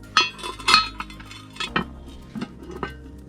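A Dutch oven lid lifted off with a towel at a campfire, producing several close, bright metallic clanks and scrapes spaced irregularly over a few seconds.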